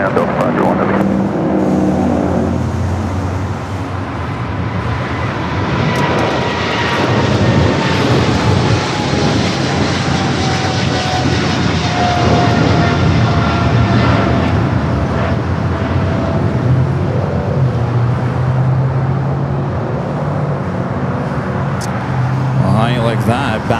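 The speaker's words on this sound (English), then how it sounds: "back-to-back 777 freighter departures, 25 at left" Boeing 777 freighter jets departing runway 25 Left at LAX, a loud sustained jet engine roar building and holding as the aircraft climb out back to back, with a descending whine and airport background noise throughout.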